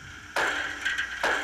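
A ball deflects lightly off the miked metal foul pole at Yankee Stadium, giving two soft, quick taps about a second apart against steady ballpark ambience.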